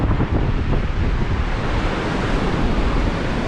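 Large ocean swells off the Eyre Peninsula crash onto the shore with steady wind buffeting the microphone, a loud continuous roar of surf and gusts with no voices.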